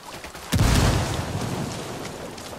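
A grenade explodes in the video game Ghost Recon Wildlands, a single deep boom that rises abruptly and then lingers as a sustained rumbling wash.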